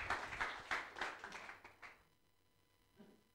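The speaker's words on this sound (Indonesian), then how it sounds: "Tepuk tangan bagi Yesus Tuhan kita" A church congregation at an Ascension Day service claps for Jesus, a burst of mid-distance clapping for about two seconds that fades to quiet, with a faint voice afterward.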